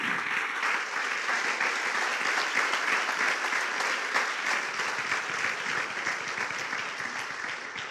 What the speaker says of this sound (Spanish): Damos un aplauso a Jesús porque Él está aquí